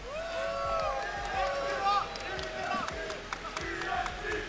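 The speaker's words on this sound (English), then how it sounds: "If you want to see Elsa win this set, make some noise" Tournament crowd at a Granblue Fantasy Versus Rising fighting game event cheering and clapping in a steady babble, with scattered sharp claps and an announcer-style voice rising over the noise.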